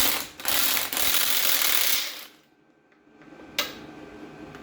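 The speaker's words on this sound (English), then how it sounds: "Yeah, it's just spinning on there." A ratchet drives a socket that spins loosely on a locking wheel nut of a Jaguar XF, giving a fast, steady clicking run that stops abruptly, followed by near silence and a single knock.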